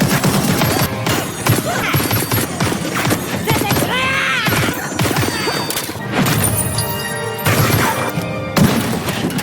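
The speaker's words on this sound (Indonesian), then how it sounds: "mereka berdua terlibat adu tembak jarak dekat yang hampir membuat The Fable terbunuh" A close-range gunfight in an action film: dense, rapid gunshots and crashing impacts pile together in a loud, chaotic burst, with scattered whooshes and a busy soundtrack underneath.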